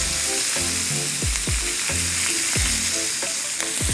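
Shrimp for cheesy shrimp and grits sizzle loudly in a hot pan, a constant bright frying hiss broken by a repeated rhythm of quick scraping strokes.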